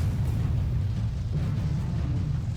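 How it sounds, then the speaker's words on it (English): A deep, rumbling explosion in the Sunrider space-combat game, a ship hull taking a massive hit, heard as a steady low roar that fills the whole moment without distinct sharp peaks and without talk. "the ship shook as a massive explosion bent the hull"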